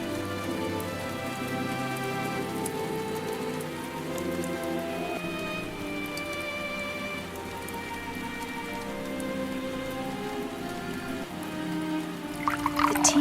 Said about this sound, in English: The rain makes everything so peaceful.